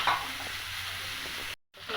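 Okra sizzles and crackles steadily in a hot pan with a soft stirring scrape, the frying noise broken by a brief silence near the end.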